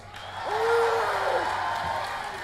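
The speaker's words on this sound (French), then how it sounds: "Applaudissez-le." Audience applause with a whooping cheer rises to a peak and then holds steady at a SoulCalibur tournament event, Japan Touch Haru 2015. A stray voice carries over the clapping crowd.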